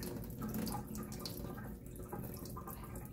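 Water with fermented eggplant seed pulp pours gently into a kitchen sink, a continuous splashing trickle with faint drips, steady and close throughout.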